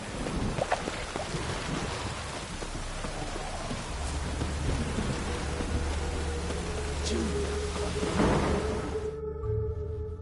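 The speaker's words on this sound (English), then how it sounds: "Witches have conjured rain." Steady rain pours throughout with a low rumble of thunder rolling underneath in the game The Witcher 3: Wild Hunt, no voices, the downpour fairly close and constant.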